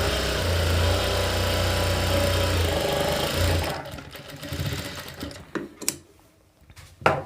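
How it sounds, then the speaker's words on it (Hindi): Sewing machine running steadily while double-stitching a princess-cut blouse, a continuous close motor whir for several seconds that stops, followed by a few light handling clicks and taps. "और डबल सिलाई लगा देना है।"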